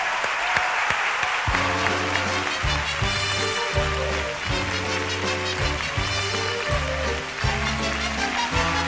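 Audience applause on a 1989 Spanish television variety show, a steady patter of clapping continuing while the full orchestra strikes up a rhythmic copla introduction beneath it.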